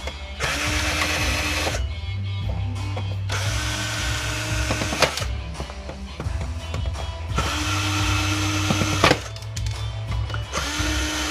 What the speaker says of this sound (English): Looks like I might have to take a few more screws out here.